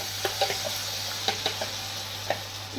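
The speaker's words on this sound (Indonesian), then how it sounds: "Kita tumis sampai harum." Ground spice paste for pindang sautéing in a wok, a soft continuous sizzle with scattered stirring clicks and scrapes over a steady low hum.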